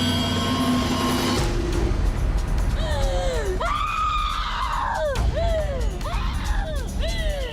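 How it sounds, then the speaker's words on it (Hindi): A person screams in a series of sharp, wailing cries that rise and fall repeatedly, loud and close, over steady crowd noise near a tree said to have divine powers. "कोई चीखता है"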